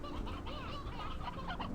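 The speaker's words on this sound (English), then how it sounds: "That's more chickens than I needed to remove" Chickens cluck busily in the video game Slime Rancher 2, several overlapping bird calls close by in a crowded pen, continuous and fairly soft.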